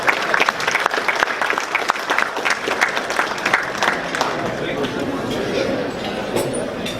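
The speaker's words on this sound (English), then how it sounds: "So let's give him a round of applause for stopping by." An audience at an awards dinner gala applauds warmly, with sustained dense clapping mixed with crowd murmur and clinking tableware, tapering slightly toward the end.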